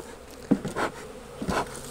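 Bees buzzing close by at a beehive, a dense droning hum with a couple of louder swells as insects pass near.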